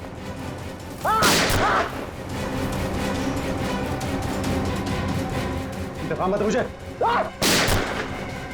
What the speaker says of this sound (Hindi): इस कमरे से गोलियां चलने की आवाज आ रही है